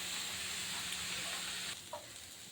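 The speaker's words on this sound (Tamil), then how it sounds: "ஆனியன் ஓரளவுக்கு வந்து ஃப்ரை ஆயிடுச்சு" Onions sizzle and fry in a pan for a big brinjal (eggplant) gravy, a steady close hiss that drops slightly near the end, with no talking.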